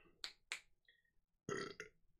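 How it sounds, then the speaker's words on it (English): Several short, close burps in quick succession, quiet and abrupt in an otherwise still room, with no talking. "Burps."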